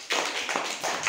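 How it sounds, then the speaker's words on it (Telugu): Young schoolchildren in a classroom clap their hands together, a short burst of several quick, moderately loud claps blending into one another. "చప్పట్లు కొట్టండి."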